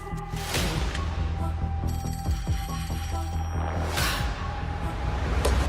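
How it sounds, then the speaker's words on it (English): A telephone rings steadily for several seconds under a busy, continuous background of music and noise, with a brief whoosh partway through. "So they race to the nearest phone to call the sheriff, Chuck Ellison."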